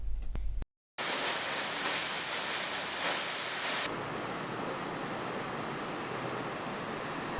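Indus River water rushing as waterfalls and streams pour toward it: a steady, loud broadband roar of flowing water, cut by a brief silent gap near the start, then continuing unbroken.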